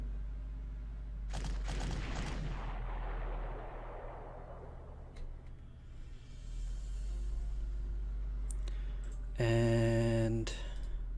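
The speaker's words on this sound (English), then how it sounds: "I'm actually gonna shell this in the hopes of destroying it." Artillery shells a unit in the strategy game Panzer Corps, giving a sharp burst followed by a long rumbling decay, then a later buzzy, tonal effect sounds near the end.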